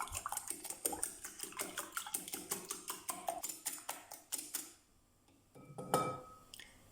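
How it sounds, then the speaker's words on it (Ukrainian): Eggs whisked with salt and pepper in a bowl make a fast, even run of bright clinks and taps, close and clear, then a pause and a last few knocks. "І збиваємо все вінчиком"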